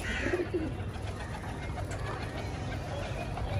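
A pigeon coos softly once or twice near the start, then quiet ambient rumble fills the rest, faint and low.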